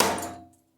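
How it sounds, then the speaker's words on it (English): A single close hammer strike on a budget ghillie viper hood project, sharp and loud at the impact and then ringing down to silence within about half a second. "always use eye protection or just close your eyes when you swing a hammer like I do"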